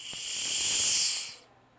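A FoodSaver vacuum-sealed container releasing air in a single steady, loud hiss close by that swells and then cuts off abruptly after about a second and a half.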